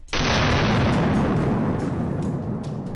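A single loud, close gunshot from a wild boar hunt, a sharp onset followed by a long rolling blast that decays slowly.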